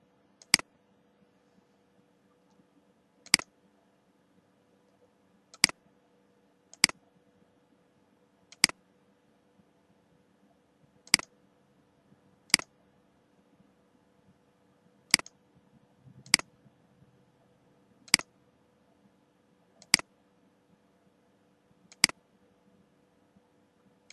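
Single sharp computer mouse clicks while working in Photoshop, about a dozen spaced a second or two apart, crisp and close over a faint room hum.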